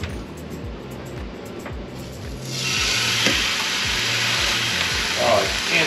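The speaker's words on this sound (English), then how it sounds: "I just want to see if it sizzles just like bacon when I put it on there." Beef bacon is laid in a hot pan and instantly bursts into a loud, close, steady sizzle after a quieter stretch with faint clatter.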